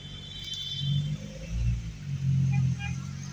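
Heavy traffic on a road toward Quiapo in Manila: low engine rumble from nearby vehicles swells and fades, with faint higher noises in the background and no clear voices.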